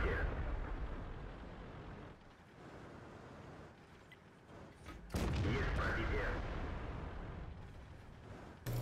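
Heavy tank cannon fire and shell impacts in World of Tanks on the Westfield map, heard from an Object 430, with loud booming blasts around the middle and end and rumbling battle noise throughout.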